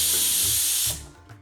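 A pressure cooker cooking dal on a gas stove lets out a loud, steady whistle of escaping steam for about a second, then cuts off abruptly, leaving a faint residual hiss.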